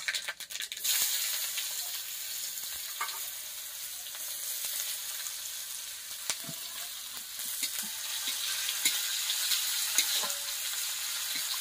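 Onions sizzle and fry in oil in a pot on a clay stove, a steady crackling hiss with scattered stirring clicks and scrapes, close and moderately loud.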